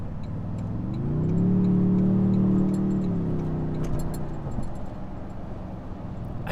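A 2022 Toyota Tundra TRD Pro engine accelerates from inside the cab, its mid-range drone rising and swelling, holding for a couple of seconds, then easing back, with faint rattles and clicks around it.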